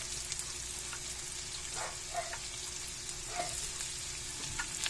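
Garlic and onion sauté in a pan while lumpia togue is being made, a steady soft sizzle and frying crackle with occasional stirring scrapes, close and continuous.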